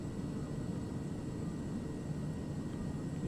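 Beechcraft King Air turboprop engine in Microsoft Flight Simulator, a steady broadband drone held at low power on a flapped approach, continuous and even throughout.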